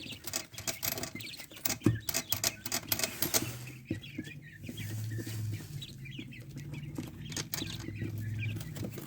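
Rapid, irregular tapping of 14-day-old quail chicks pecking at food, close and fairly quiet, with soft chirps and rustling underneath.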